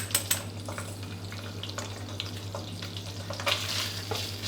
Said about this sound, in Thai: ผัดซอสให้หอมเลยครับ